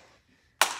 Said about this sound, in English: then we walk our hands back, and we clap it out.